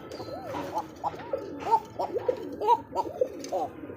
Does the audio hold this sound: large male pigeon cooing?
yes